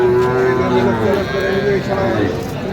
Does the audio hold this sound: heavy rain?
no